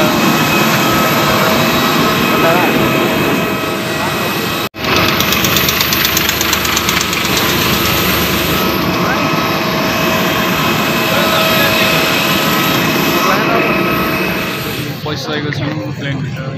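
A loud, steady engine roar fills the cabin of a passenger airplane on a Nepal to Japan flight, a continuous drone with people talking under it.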